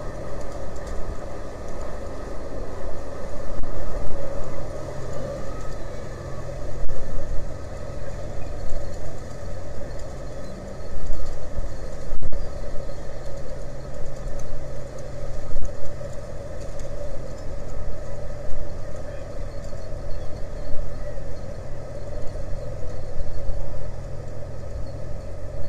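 The 1,000-foot lake freighter Walter J. McCarthy Jr., built in 1977, arriving at Duluth to load iron ore pellets, gives off a steady, loud low engine rumble and drone that holds for the whole stretch.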